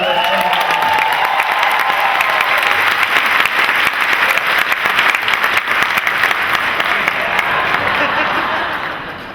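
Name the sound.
convention crowd applauding at Dragon Con Smallville panel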